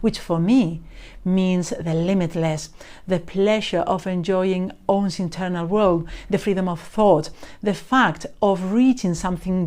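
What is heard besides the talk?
No everyday noise stands out behind the speech.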